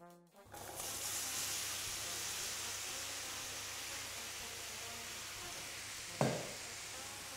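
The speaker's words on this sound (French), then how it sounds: "On va faire caraméliser les poires." Pears cooking in caramelized sugar in a frying pan give a steady, loud sizzle that starts abruptly and holds throughout, with a brief sharper flare near the end as the fruit is stirred.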